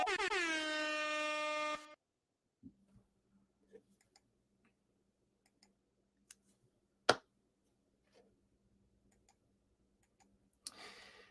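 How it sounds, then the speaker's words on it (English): Loud air horn sound effect blasting for about two seconds, followed by near silence with scattered faint clicks and taps. "I'll hit you with the air horn"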